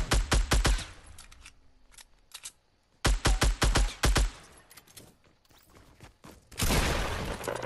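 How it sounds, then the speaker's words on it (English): Bursts of video game gunfire as enemies shoot at a base, with rapid cracking volleys in several clusters separated by quieter stretches and a dense sustained barrage at the end. "I think they're shooting the base of your thing, be careful."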